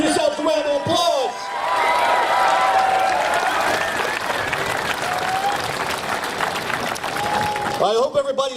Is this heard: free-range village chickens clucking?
no